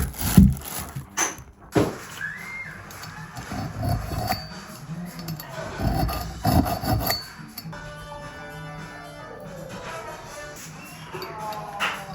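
Scraping and filing on a 1982 Suzuki RM 250 part, chasing a damaged thread and cleaning a gasket face, with irregular close rasping and rubbing strokes, a few metallic clinks and quieter handling toward the end.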